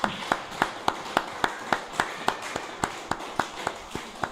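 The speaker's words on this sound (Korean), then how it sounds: "박수 합시다." A church congregation at a Sunday service claps in steady unison, about three and a half even beats per second. The claps sound moderately distant and keep a regular rhythm for the whole stretch.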